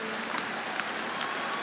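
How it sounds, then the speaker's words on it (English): Graduates at a spring commencement ceremony applaud in a steady, dense wash of clapping from a large crowd, heard throughout. "I want you to give yourself a big round of applause."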